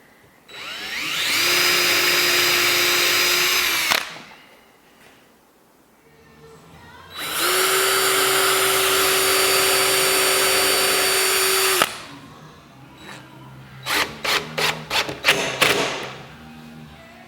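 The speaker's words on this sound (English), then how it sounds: "I'm going to go ahead and recess these with the 3/8 bit, and then I'll pilot drill them all the way through" Two long whines of a drill recessing and piloting screw holes for a lathe upper cabinet, each a few seconds of steady close whirring, followed by a run of short quick bursts as the bit finishes.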